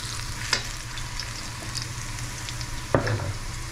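Pork ribs sauté in a pan with a steady, close sizzle, punctuated by two brief stirring knocks against the pan.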